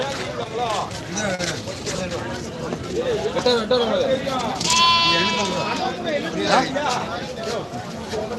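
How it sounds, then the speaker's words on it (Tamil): Goats bleat at the busy Ettayapuram weekly Saturday goat market, with one loud wavering cry rising above steady crowd chatter and people talking throughout. "ஆடுகள் வாங்கி போயிட்டு இருக்காங்க"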